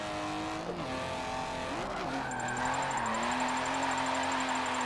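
Drift car sliding in Forza Motorsport 7, with a steady engine drone shifting pitch as it revs and a high sustained tire squeal joining partway through, loud and continuous with no talking.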